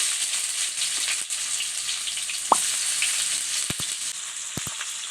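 Finely chopped onions go into hot oil and fry with a steady, bright hiss, close and fairly loud. A few brief knocks and taps from the pan sound over the continuous sizzle.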